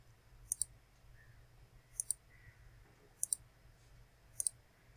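Computer mouse clicking in sharp double clicks, four pairs spaced about every second and a half, close and crisp over a faint low hum.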